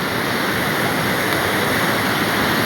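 A river swollen by a night of continuous rain rushes past in Barangay Malapaao, a dense, steady roar of churning water with no break, close and loud.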